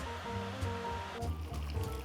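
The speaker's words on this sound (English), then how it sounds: "I'm just gonna fill this out with some boiling water" Water from a kettle pours steadily into a pot of roasted vegetables, tomatoes and olive oil, a faint continuous splashing that shifts in intensity partway through.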